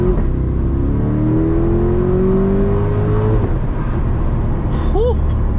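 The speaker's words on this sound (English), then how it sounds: "this car sounds crazier in like manual mode" Chevrolet C8 Corvette in sport mode pulling hard from inside the cabin, engine pitch climbing in a long rising sweep, then a quick upshift and a brief blip, loud and continuous throughout.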